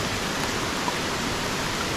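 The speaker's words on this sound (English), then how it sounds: "we have little rain here with me" Rain falling outdoors at a riverside fishing spot, a steady, dense broadband hiss of drops with no breaks, close and fairly loud throughout.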